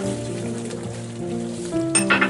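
Oil-free Manchurian chicken with ginger sizzling in a pan while being stirred, a steady close frying hiss with faint scraping and a brief clink near the end.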